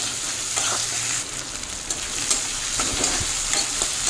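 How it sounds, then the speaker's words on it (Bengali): Chopped potatoes fry in a pan with a steady sizzle, broken by scraping and stirring clatters from a utensil. "আলু নিয়ে এক মিনিট মতো আলুকেও ভেজে নেবো"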